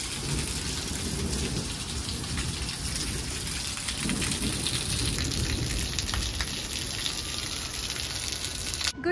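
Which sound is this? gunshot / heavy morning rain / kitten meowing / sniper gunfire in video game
heavy morning rain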